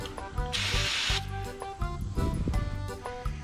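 A short hissing burst of aerosol insect spray aimed at a spider, lasting about half a second, over a busy background of music and clatter.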